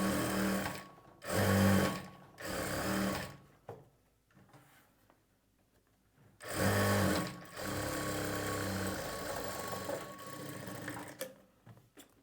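An electric sewing machine stitching a blouse's lining and main fabric along a half-inch margin runs in several rapid whirring bursts, close and loud, separated by short pauses with faint handling sounds.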